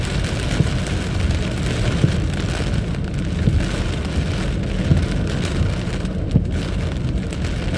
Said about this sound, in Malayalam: മഴയുടെ ശക്തി നിങ്ങൾക്ക് കേൾക്കാമല്ലോ അതിൻ്റെ ശബ്ദമൊക്കെ